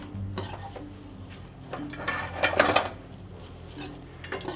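Lemon rice being mixed in a pan, with a spoon scraping and clinking against metal in irregular strokes at close range, several louder scrapes near the middle and end.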